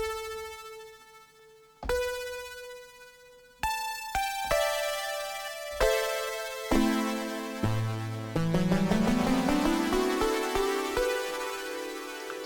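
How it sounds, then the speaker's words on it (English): A synth patch in Ableton plays a sequence of sustained, bright harmonic notes, each starting sharply and fading, with the pitch climbing in stepped glides toward the end, heard alone and clean. "And if we layer that up with the synth sound,"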